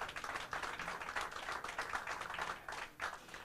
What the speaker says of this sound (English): we put a nice round of applause together for Mr. Jung-Lin CHANG